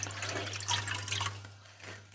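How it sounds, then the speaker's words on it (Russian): Water is poured from a glass in a kitchen while cooking, giving a soft, fairly faint splashing trickle that swells and fades over about two seconds, with no talking. "еще один стакан налью"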